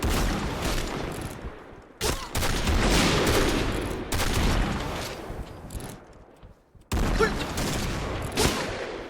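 Gunfire in the Point Blank online shooter game, sniper rifle action: dense bursts of shots fill most of the stretch, broken by brief near-silent pauses, loud and continuous with no talk.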